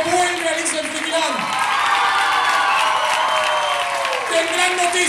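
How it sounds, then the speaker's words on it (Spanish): A concert audience applauds and cheers at the end of an Alicia en Frikiland show, a dense, steady roar of clapping and shouts that holds for about five seconds, with tonal voices or sound from the stage running through it. "Fuerte el aplauso."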